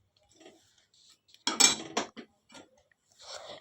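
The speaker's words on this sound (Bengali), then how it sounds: "খুন্তি দিয়ে মিক্সড করে ভালো করে এটা মশলাটাকে কষাতে হবে" A spatula scraping and clinking against a pan while chana masala spices are stirred, a few sharp metallic knocks in quick succession amid near silence.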